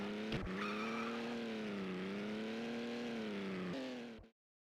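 A taxi-like car in a Game Boy Advance racing game drives on with a steady, buzzy synthesized engine drone whose pitch wavers up and down. Brief skid squeals break in near the start and end before the sound cuts off abruptly.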